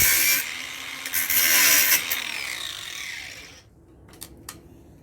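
A tool cuts copper pipe from an air conditioner head with a close, hissy rasp for several seconds, then falls quiet apart from a few short scrapes.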